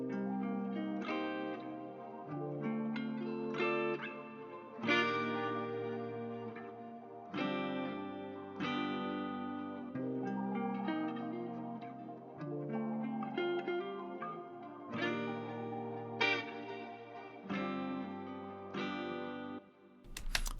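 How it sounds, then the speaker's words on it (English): Spacey piano sample drenched in shimmering granular echo from a crystallizer effect, chords ringing in repeated phrases every few seconds with a smeared, glittering tail, steady and alone with no voices. "I added crystallizer because I like the idea of having a spacey piano with some granular echo synthesis on top of that"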